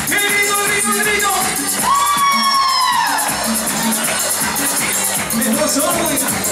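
A concert crowd at the Teleton 2018 shouts together on cue during a live song, a loud mass of voices with rising whoops and cheers, mixed with amplified music and a singer's voice.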